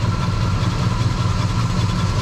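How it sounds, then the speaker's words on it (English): A 1968 Oldsmobile 98 engine idles roughly, shaking as it sits running, a loud close steady low rumble with a slightly uneven pulse and no talking. "You see the engine shake when it's sitting there running."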